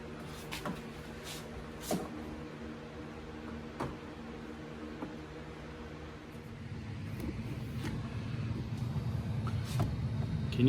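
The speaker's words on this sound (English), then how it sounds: "Can y'all hear that? I've got a blower motor now." A Jeep TJ's newly installed blower motor running inside the car, a low steady whirr that rises into a louder rushing of air from the vents, with a few clicks and knocks over it.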